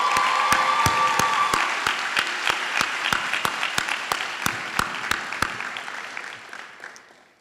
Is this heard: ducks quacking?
no